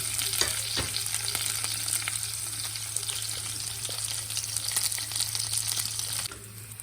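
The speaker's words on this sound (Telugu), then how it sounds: "చూడండి తాలింపు వేగిపోయింది" Tempering of ginger, green chillies, curry leaves and chana dal or cashew pieces sizzles steadily in hot oil for a dhokla, a continuous close crackle with faint stirring and no talk.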